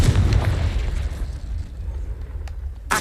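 A heavy booming explosion from a Confringo blasting spell in Hogwarts Legacy. It is loud and rumbling at the start, decays into a low roar, and a second sharp burst follows at the very end.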